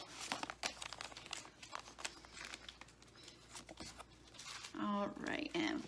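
A McDonald's 25th Anniversary Pokémon card pack wrapper is torn open, giving close, soft crinkling and tearing of foil-like packaging in short bursts, with a brief louder rustle near the end.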